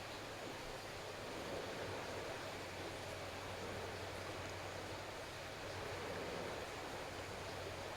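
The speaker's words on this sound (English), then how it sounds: "I'm hoping that you all can hear the beautiful ocean waves in the background." Turquoise sea waves washing onto a shore, a soft, steady wash of surf in the distance, faint and continuous with no voices.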